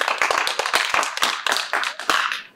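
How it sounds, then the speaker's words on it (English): A small group claps for a participant, with sharp, close handclaps in a loose, uneven rhythm that briefly slackens before picking up again. "Let's clap for her."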